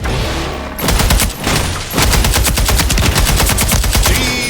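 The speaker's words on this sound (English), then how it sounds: "Firecracker in the ground. They just lit a firecracker." A firecracker goes off on the ground in a video game, a long loud crackling string of rapid bangs that runs almost continuously, with a brief dip before the popping resumes.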